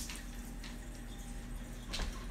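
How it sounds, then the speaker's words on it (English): Tap water runs steadily over fresh peppers being rinsed in a kitchen sink, a soft continuous splashing with a brief louder gush near the end, no voices. "I forgot to wash these, so I'm going to rinse these off"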